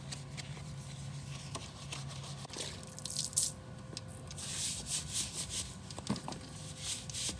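A long-bristle brush scrubs a car wheel coated in foaming wheel cleaner gel, a soft, close swishing and rubbing in uneven strokes with wet, sudsy hiss and occasional light knocks.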